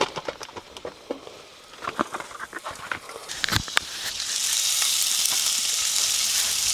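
Eggs and sausage frying on a gas camp stove at a riverside campsite, starting with scattered crackles and pops, then settling into a steady, loud hiss of sizzling fat close by.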